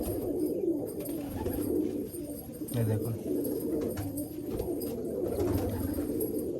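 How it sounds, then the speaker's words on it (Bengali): A black-eyed male Malwai pigeon in Baruipur coos in low, throaty bursts, a few soft coos rising out of steady background noise while someone talks nearby. "এটাও একটা নর পায়রা।"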